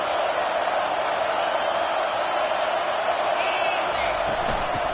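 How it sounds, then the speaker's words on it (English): Constant dense roar of a stadium crowd at a football game, steady and loud throughout with a faint hint of a voice near the end. "This crowd trying to make life miserable for this offense."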